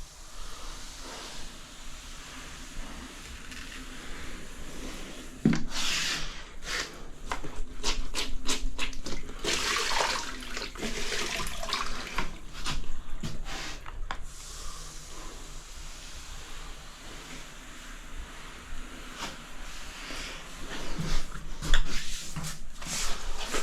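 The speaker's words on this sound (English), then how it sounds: "See how easy it is with a wash boy?" A wash boy wiping across a surface in repeated rubbing strokes, with quick swishing bursts and hiss that rise and fall, close and moderately loud, without talk.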